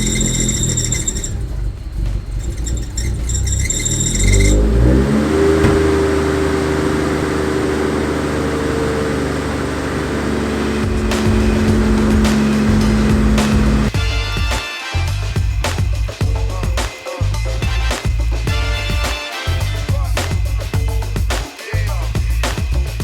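A Nissan Skyline R33 GTST engine cranks and fires, settles into a loud steady idle, then rises into several strong revs with brief dips between them, close by.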